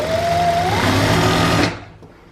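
A sewing machine runs steadily, stitching a kameez side slit with a double line of stitching, loud and close for about a second and a half, then stops and fades to quiet.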